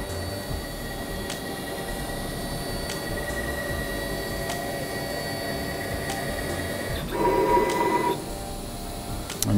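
A Laguna IQ Pro CNC router with automatic tool changer runs a steady mechanical hum and whine, with brief clicks from the tool change, then a louder stretch of spindle and motor noise near the end.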